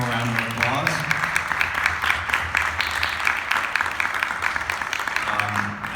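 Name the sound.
audience applause for the panelists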